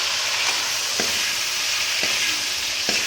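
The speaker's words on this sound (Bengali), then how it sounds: "চিংড়ি মাছগুলো সব ভেজে ফেলবো এই কড়াতে" Prawns fry in a kadai with a steady, close hiss of oil, broken by a few soft scraping stirs.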